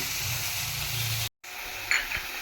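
Chicken keema mixture sautéing in a pan, a steady close hiss of sizzling broken by a brief cut, then resuming with a small spatter.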